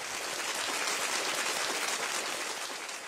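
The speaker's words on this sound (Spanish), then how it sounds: "Aplausos." A Roland VR-1HD mixer plays an applause sound effect: a dense, steady wash of clapping from a large crowd holds evenly for a few seconds and eases slightly at the end.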